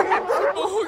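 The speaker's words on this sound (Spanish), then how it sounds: "¡Ay, esos horribles ladridos!" A cartoon dog barks in a quick burst of two or three yapping barks, close and fairly loud, all within a second.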